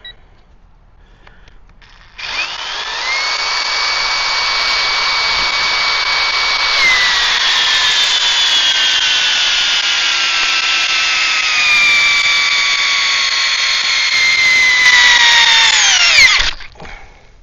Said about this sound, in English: Testing for the peak torque.